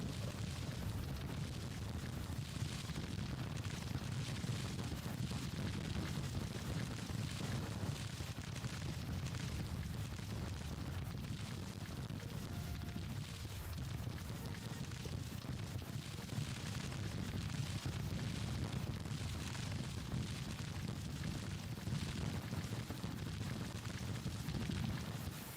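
An artillery bombardment in Grand Tactician: The Civil War rumbles as a continuous, distant barrage of booms and crackling blasts, steady and dense throughout, without clear speech.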